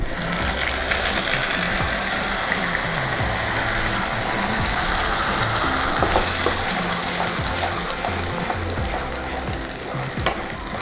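Onion paste frying in hot oil with mustard seeds, cumin seeds and dry red chili for a lotus stem salan, a loud steady sizzle with scraping, ratcheting stirring noises over the whole stretch.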